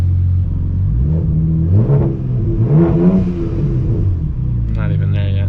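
A BMW 335i with a big Speedtech 6266 single turbo on E85 revs and accelerates from inside the car, a loud deep engine drone climbing and falling in pitch, with a brief higher whine near the end.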